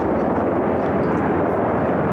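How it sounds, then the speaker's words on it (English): Black helicopters fly overhead, giving a loud, steady, roaring engine rumble. The noise holds at an even level throughout and barely fades at the very end. "all the black helicopters that just showed up"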